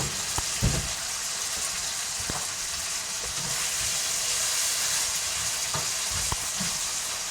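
Drained garbanzo beans browning over high heat in a pan of oil with onions, salt and red pepper flakes, giving a steady loud sizzle with a few sharp spatters and stirring knocks.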